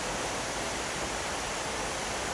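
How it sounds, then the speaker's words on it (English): Waterfall on Red Creek, a steady broadband rush of falling water, loud and close, with no voices over it. "I completely forgot that there was a waterfall on Red Creek."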